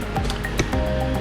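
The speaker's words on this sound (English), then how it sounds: "Sound you hear in the background right now is some water that I'm stepping on" Footsteps squishing through puddled water in a garage workspace: a brief, close, wet splash and squelch heard alone.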